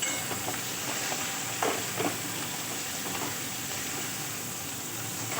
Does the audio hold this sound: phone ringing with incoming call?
no